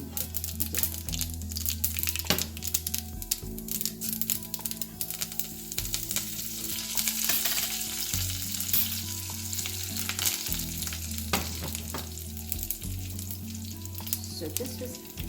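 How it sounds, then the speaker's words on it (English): Mustard seeds sizzle and crackle in hot oil for lime rice, a steady dense frying hiss with occasional stirring scrapes and an underlying low hum. "The oil is heated up, and we're going to put some mustard."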